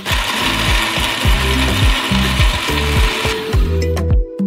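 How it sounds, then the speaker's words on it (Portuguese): A blender motor grinds melon pulp loudly in a rhythmic, pulsing churn, repeating steadily for several seconds before cutting off. "Despejamos tudo em um liquidificador."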